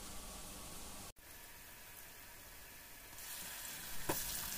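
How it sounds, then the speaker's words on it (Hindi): Chicken frying in a pan with onion and ginger-garlic paste gives a steady broadband sizzle that drops out for a moment, then returns and builds slightly louder, with a brief stir near the end. "अभी मैं चिकन को डाल रही हूँ जी, प्याज और जिंजर गार्लिक जो के फ्राई हो चुका है"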